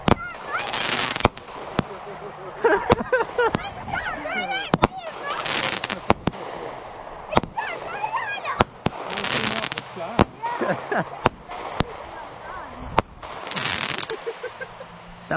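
New Year fireworks go off nearby in repeated sharp bangs and crackling bursts, some very loud and close, with excited voices talking and calling out between and over the blasts.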